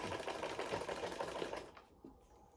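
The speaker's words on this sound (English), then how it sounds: "So guys, I'm sewing it down. I'm taking it straight down." A sewing machine stitches lace fabric for a traditional outfit, a fast close whirring run lasting under two seconds before stopping abruptly, with faint room sound after.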